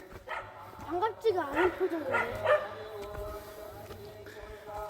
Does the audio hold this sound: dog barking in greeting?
yes